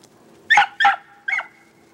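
A pack of beagles gives three loud, yelping bays in quick succession while chasing rabbits outdoors, the last one shorter and slightly fainter.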